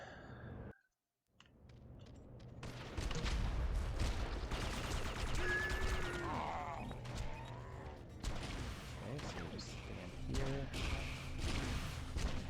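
Railgun fire and explosions during a boss fight in the video game Red Faction, with booming shots, crashes and clatter that build after a brief silence and stay dense and loud throughout.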